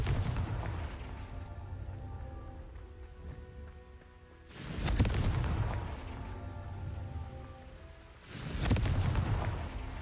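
Confringo fire spell explosions in Hogwarts Legacy, two deep booming blasts a few seconds apart, each rumbling and decaying over a background of game music tones.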